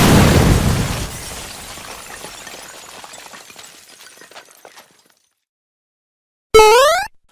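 A wizard's spell sets off an explosion in a video game: a loud blast that rumbles and fades away over about five seconds, then silence, then a short bright electronic chime.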